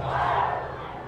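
A large crowd at a night high school football game lets out a loud, sustained roar and cheer that gradually fades, heard from a distance.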